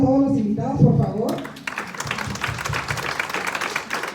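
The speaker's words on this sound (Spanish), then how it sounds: "Démosle un aplauso a todos los invitados, por favor." Audience at a Nature Sunshine health talk in Xela, Guatemala applauds its invited guests, a dense, steady wash of clapping that rises after a brief stretch of a voice and keeps going to the end.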